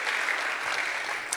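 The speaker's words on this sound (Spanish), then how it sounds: "Le damos un aplauso por la radio, la televisión, las redes, en el nombre de Jesús." A church congregation claps together in steady, dense applause that holds at an even level throughout, with no talking over it.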